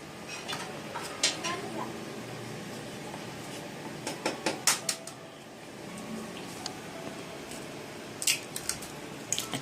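An egg cracked against a bowl and dropped into a chicken and vegetable kebab mixture: a few sharp, close taps and clinks over a quiet kitchen background, with no one speaking.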